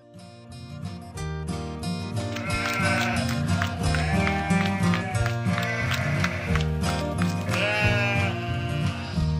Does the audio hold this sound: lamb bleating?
yes